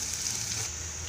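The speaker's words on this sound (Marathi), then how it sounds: "आता आपण इथे लसूण आणि मिरची छान करून परतून घेऊया।" Garlic and crushed chili sizzle in hot oil with popped mustard seeds, the tempering for a ridge gourd bhaji, giving a steady close hiss with no voices.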